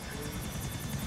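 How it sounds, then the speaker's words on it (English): Helicopter in GTA 4: The Ballad of Gay Tony, a steady rapid rotor chop with engine whine, loud and close, continuous throughout. "I found a modded helicopter over here. A white and gold one."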